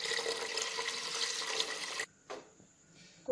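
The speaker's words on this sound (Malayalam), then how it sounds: "ഇനി ഈ അരി വേകാനുള്ള 2-3 ഗ്ലാസ് ആവശ്യമുള്ള വെള്ളം ഇതിൻ്റെ കൂടെ ചേർത്ത് കൊടുക്കാം." Water poured from a glass into broken rice and coconut milk in a pressure cooker, a steady splashing pour lasting about two seconds, then stopping, followed by a few faint clinks and small drips.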